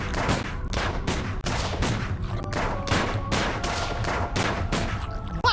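Rapid video-game gunfire fills the whole stretch, a dense fusillade of overlapping shots with a steady, relentless rhythm, loud and close with no pauses.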